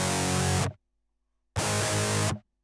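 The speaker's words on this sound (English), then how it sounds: "that's just the archetype nollie from Neural DSP with the cab section turned off" A guitar through the Neural DSP Archetype Nolly amp simulator with its cabinet section switched off gives two harsh, fizzy, wide-open distorted chord bursts, each under a second long, separated by dead silence.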